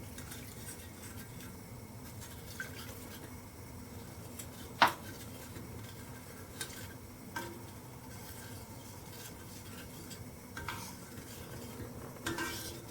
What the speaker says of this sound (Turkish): Böyle birlikte karıştırarak kıvam elde ediyoruz.